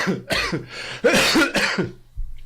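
A few harsh coughs and throat clearing in quick succession, close and loud, with short pauses between them.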